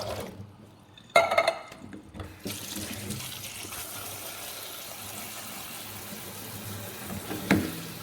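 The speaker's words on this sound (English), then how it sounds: "So you take your canned beans, and obviously you want to strain them. And what we'll do as well is we're going to rinse them off." Steady running tap water splashes over strained canned beans in a sink for several seconds. A brief louder burst comes near the start and another splash near the end, with no voices.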